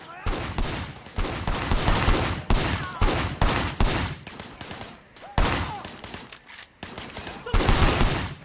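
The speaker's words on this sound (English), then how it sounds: "There was a shooter, firing shots from the passenger window." Gunfire in the video game Sleeping Dogs, loud dense volleys of rapid shots in repeated bursts with brief gaps, close and continuous across the stretch without clear talk.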